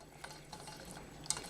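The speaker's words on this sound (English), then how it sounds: "I'm just going to stir that around" A whisk stirring thickening potato soup in a pot, quiet repeated soft swishing strokes with a faint metallic tap near the end, close and low in level, no talking.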